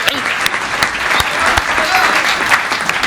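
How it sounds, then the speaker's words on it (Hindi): An audience at a Hindi comedy poetry gathering claps steadily in a dense burst of applause, loud and close, with a few sharper individual claps standing out. "एक बार जोरदार तालियां।"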